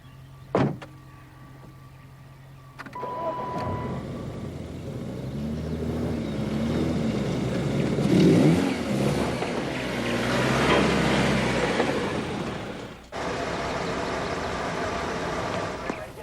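A car engine turns over and keeps running at a steady, moderately loud level for about ten seconds, apparently pulling away, after a sharp door-like thump at the start.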